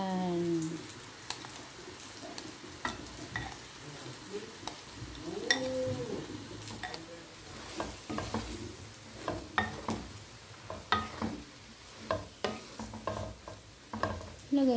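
Soaked pancit canton noodles sizzle in a hot pan as they are stirred and tossed, with scraping utensil clatter, uneven bursts of frying hiss and a brief stretch of rising squeaks near the start.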